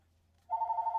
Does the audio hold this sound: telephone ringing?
yes